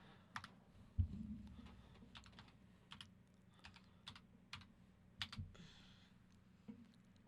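Fingers type on a computer keyboard in scattered bursts of sharp clicks and taps, quiet and close, with uneven pauses between keystrokes.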